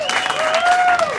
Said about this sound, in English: give yourselves a great big flippin' cheer